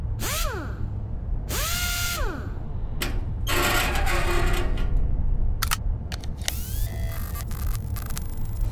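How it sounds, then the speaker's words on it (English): A power drill runs in short, repeated bursts, each with a rising whine as the motor spins up and slows down. Clatter and handling noises from the same scene come between the bursts, with no voices. "The power drill?"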